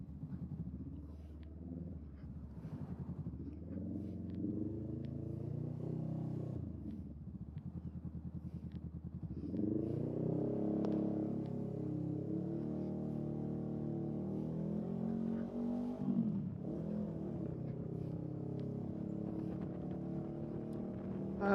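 Motorcycle engine on an afternoon commute, held in a low, steady rumble that rises and falls as the clutch lets it wind out through traffic, continuous throughout with wind noise and no speech.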